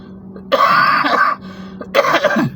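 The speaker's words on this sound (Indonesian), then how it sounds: "Maaf, agak batuk sedikit." A male lecturer giving a religious talk clears his throat and coughs up close, a harsh rasping burst followed after a short pause by a second rough cough.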